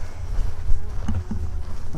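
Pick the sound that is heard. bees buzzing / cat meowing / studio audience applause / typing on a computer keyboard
bees buzzing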